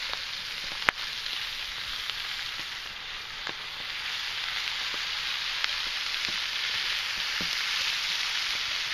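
Onions frying alongside pork chops in a pan over an outdoor rocket stove. A soft, steady hiss of sizzling carries faint scattered pops and clicks, with no one speaking.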